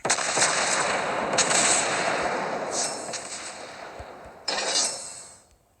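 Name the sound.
battleship guns firing in World of Warships Blitz video game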